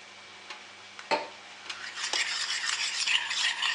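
A spoon clinks and scrapes in a bowl, mixing a thick homemade body whitening cream with a tablespoon of glycerin. A few sharp taps come first, then a busier, wetter churning stir that builds toward the end.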